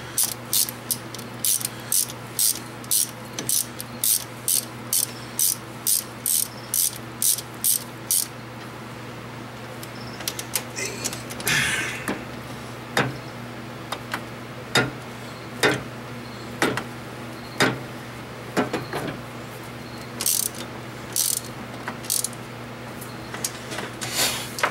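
Ratchet clicking as head bolts are tightened on a 1990 Chevy 5.7 engine, with quick bursts of sharp ticks followed by slower, spaced single clicks, close and fairly quiet in a still workshop.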